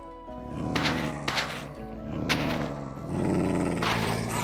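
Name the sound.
spectral dogs growling in Minecraft All the Mods 10 video game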